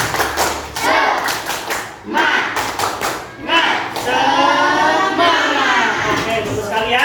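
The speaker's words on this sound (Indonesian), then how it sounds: "Tepuk semangat." A class of children does a rhythmic spirit clap led by their teacher, sharp patterned bursts of hand claps and thumps alternating with children chanting together in a classroom.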